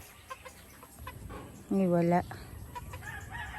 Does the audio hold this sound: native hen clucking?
yes